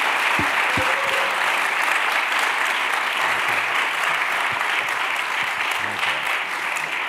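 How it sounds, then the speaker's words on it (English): Audience applause after a talk about a film on Georgia O'Keeffe, sustained steady clapping from a crowd throughout with a few low knocks and thumps near the start. "Can we just have a round of applause for these wonderful folks?"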